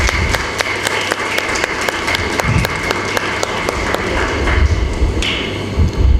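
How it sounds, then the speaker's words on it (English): A school audience claps for dignitaries at a ceremony honouring Mapusa fire department staff, with loud, close, crisp claps keeping a fairly regular beat over a busy crowd background for about six seconds. "Let us once again give a big round of applause to all the dignitaries."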